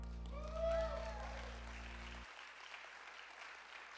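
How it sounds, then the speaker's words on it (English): A Sunday service congregation applauds a guest from Cincinnati, a soft, steady wash of clapping that follows a brief tonal passage and carries on at a modest level. "Let's give her a big round of applause all the way from Cincinnati."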